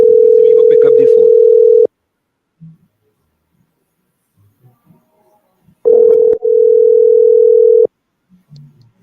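Steady telephone dial tone, loud and close, sounding for about two seconds, then after a pause a voice and rustling, followed by a second two-second stretch of tone, with faint handling noises between, during a call to a senator on a radio broadcast.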